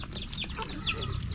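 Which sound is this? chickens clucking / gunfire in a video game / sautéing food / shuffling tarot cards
chickens clucking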